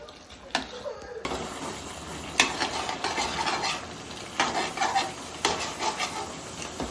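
Fish is frying in a pan of hot oil in a home kitchen, with a crackling sizzle broken by repeated stirring and scraping bursts and clinks of utensil on metal, close by.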